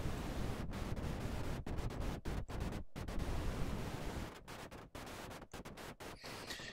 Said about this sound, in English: noise generator with a bunch of knobs on